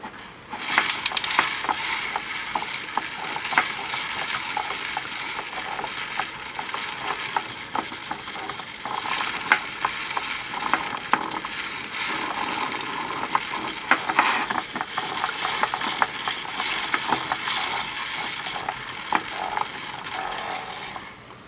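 A bead spinner whirls as bead bracelets are strung, with a continuous rattling, clicking churn of loose beads in the turning bowl, steady and close throughout with no talk.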